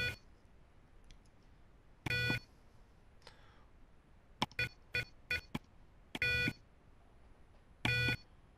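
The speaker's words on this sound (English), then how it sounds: "Depressing the adjust button for one beep." A radar clock gives a series of short electronic beeps as its adjust button is pressed, with a few longer tones and quicker chirps separated by quiet gaps.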